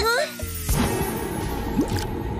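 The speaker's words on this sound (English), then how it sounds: "Oh, Leo's got a bubbling belly again." A cartoon bubbling-belly sound effect plays as loud, continuous gurgling and squishy liquid bubbling, with a brief whistling tone at the start.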